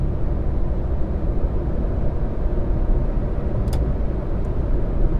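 Steady broadband rumble of a Toyota Agya 1000 cc car cruising in fifth gear at 3000 RPM, around 100 km/h, with engine drone and road and wind noise constant from inside the cabin, no voices.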